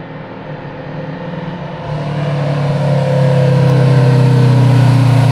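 A truck's engine brake drones from a distance, a low, throaty rumble that grows steadily louder and more sustained over several seconds.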